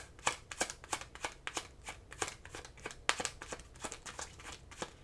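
Tarot cards shuffled steadily up close, a soft, even run of rhythmic papery riffles and flicks repeating throughout with no talking.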